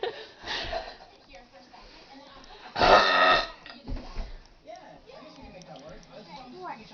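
A person lets out one loud, drawn-out burp in the middle, with speech and chatter heard before and after it.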